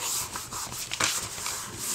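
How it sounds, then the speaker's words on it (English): Paper rubbed firmly along the folded crease of an envelope in a handmade envelope mini album with a chipboard spine: a steady, close dry rubbing that runs for about two seconds in repeated strokes, with no talking. "make sure you burnish in the crease"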